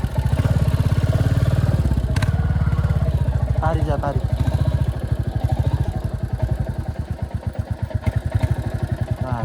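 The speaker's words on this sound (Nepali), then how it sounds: "हामी चाहिँ यो बाइक टेस्ट राइड गरेर अब फर्किनु लागेको" A Royal Enfield motorcycle on the ride back from a test ride, its engine thumping in a steady, loud, close rhythm throughout while people talk over it.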